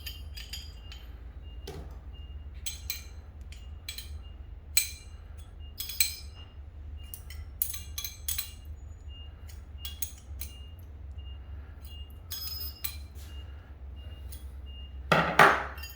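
A metal wrench clinks and taps while a pressure sensor is changed, producing scattered sharp, close metallic knocks and chinks over a quiet low hum, ending in a louder clatter.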